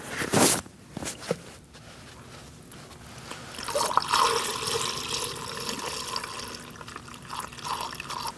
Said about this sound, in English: Now let's put our coolant in.